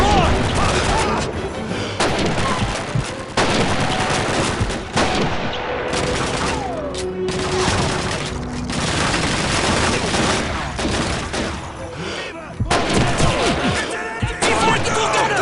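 Dense MG42 machine gun fire from the World War II shooter Call of Duty 2, a continuous loud barrage of bursts and crashes filling the whole stretch, with shouted voices mixed in.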